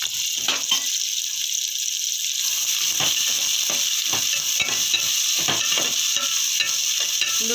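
Onions frying in a pan, a steady close sizzle broken by repeated scraping stirs with a spoon, no talking.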